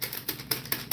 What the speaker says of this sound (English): Let me play this piece of paper.